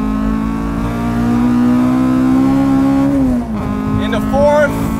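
A high-revving Acura RSX four-cylinder engine climbs toward 9,000 RPM into VTEC with a rising, loud nasal whine and strong harmonics, then drops sharply on a shift and begins pulling upward again.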